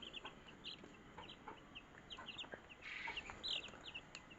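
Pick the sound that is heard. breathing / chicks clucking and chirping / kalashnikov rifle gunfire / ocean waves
chicks clucking and chirping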